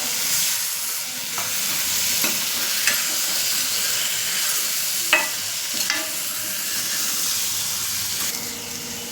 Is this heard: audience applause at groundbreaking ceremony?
no